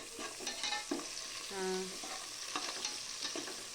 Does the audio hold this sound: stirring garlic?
yes